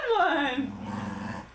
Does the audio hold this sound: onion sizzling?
no